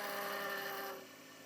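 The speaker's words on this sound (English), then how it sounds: "I will ream that" A hand reamer cuts through a small 1/8 inch hole in a hit-and-miss engine's exhaust valve rocker arm, making a faint, steady scraping rasp that eases off partway through.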